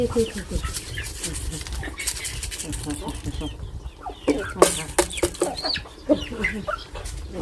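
Chickens cluck and squawk in a close, busy flurry while being fed, with a person talking over them throughout and a brief dog-like call in the mix.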